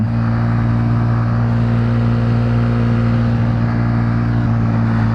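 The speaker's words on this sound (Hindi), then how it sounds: "एग्जॉस्ट साउंड मेरी सुपर बाइक का" Honda CB 125 Hornet motorcycle exhaust drones loud and steady at close range in Ladakh, a constant low throbbing hum with no voices.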